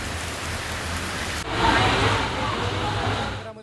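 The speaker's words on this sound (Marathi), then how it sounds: "जोरदार पावसाला सुरुवात झालेली आहे।" Heavy rain pouring down in Pune city, a dense steady roar of rainfall on surfaces that swells partway through, with a faint traffic rumble underneath.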